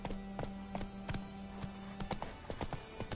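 Horse hooves galloping at a steady clip-clop rhythm in The Witcher 3: Wild Hunt, close and clear over a low steady game music drone, with no talking.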